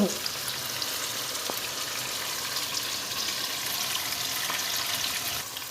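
A tuna stew, tonno guisado, sizzles and fizzes steadily in a pan after a little water is added. The crackling hiss is close and continuous, and no one speaks over it.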